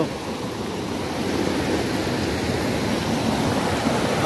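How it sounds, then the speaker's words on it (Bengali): Mountain stream on a trek route in Sikkim, its water rushing in a steady, full, close roar that carries on without a break, with no voices. "জলের আওয়াজ আশা করি শুনতে পাচ্ছেন"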